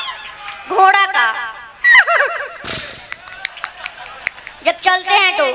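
A voice imitates a horse with shrill, quavering whinnies, broken by a brief gasp and clicking sounds, close and loud.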